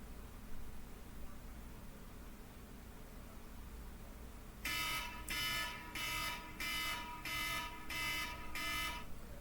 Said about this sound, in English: that's my alarm that it's time for me to move